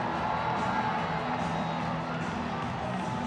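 Rodeo crowd cheering in an arena, a steady distant roar of voices with scattered shouts and whoops, continuous and fairly faint throughout.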